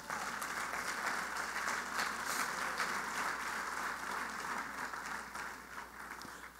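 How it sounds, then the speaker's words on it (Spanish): A church congregation claps in praise to God, a soft, steady patter of many hands heard from a distance, continuing evenly and fading slightly toward the end. "Dale un aplauso ahora a tu Dios."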